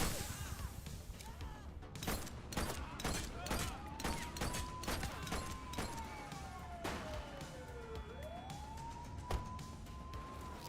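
Rapid bursts of gunfire crack through a shootout in The Precinct video game, loud sharp shots repeating over several seconds while a siren wails and bends in pitch behind them.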